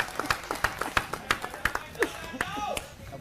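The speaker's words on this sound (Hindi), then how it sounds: "जोरदार तालियों से स्वागत करेंगे परम आदरणीय श्रीमान अरविंद केजरीवाल जी का।" Rhythmic claps ring out one after another at a Diwali gathering of Delhi auto drivers welcoming AAP leader Arvind Kejriwal, sharp and fairly close, with a voice speaking over them toward the end.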